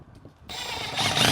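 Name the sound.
power drill driving screws into window frame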